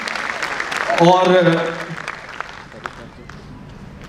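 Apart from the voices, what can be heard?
applause for Manika Dubey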